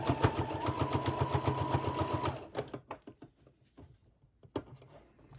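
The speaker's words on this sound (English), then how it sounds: "I'm going to sew at this side, not catching my elastic." A sewing machine stitches in a quick, even run along the side of a DIY fabric face mask, stopping after a couple of seconds and leaving faint handling taps.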